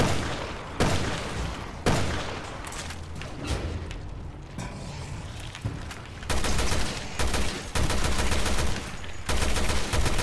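Rapid gunfire from the video game Resident Evil Revelations 2 fills the stretch with loud repeated shots and bursts, dense and continuous with brief gaps, with no talking over it.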